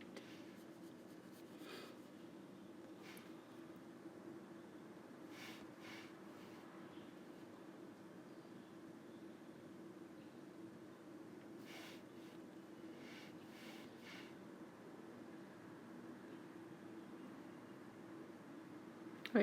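Pen or pencil drawing a diagram on paper, faint scratchy strokes coming in short bursts over a quiet low hum, close and soft.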